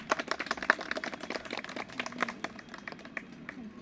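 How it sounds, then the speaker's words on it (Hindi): A small audience of female students claps in scattered, fairly quiet hand claps that come in an irregular patter without any talking. "इनके लिए तालियां बजाइए"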